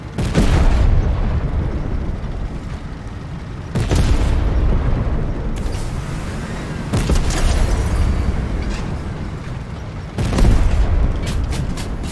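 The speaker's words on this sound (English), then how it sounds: "That tank blew up." A tank blowing up in Fortnite Chapter 3 Season 2, heavy booming blasts recurring several times over a loud continuous rumble of in-game battle noise.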